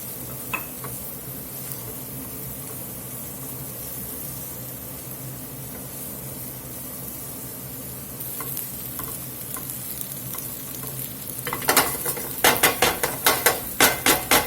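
Green onion and shallot go into a hot pan with meat, a steady low sizzle running under occasional faint scrapes, then a quick run of sharp rhythmic spatula clacks against the pan near the end.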